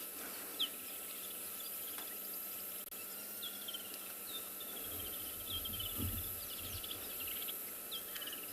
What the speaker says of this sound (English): Sometimes it's nice to just sit still and listen to the chorus of the birds.